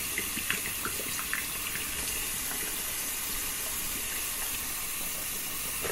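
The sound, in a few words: hot tap water running over shaving brush knot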